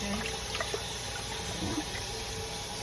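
Tap water runs steadily over raw chicken in a sink, a constant close rush with small splashes and trickles and no talking.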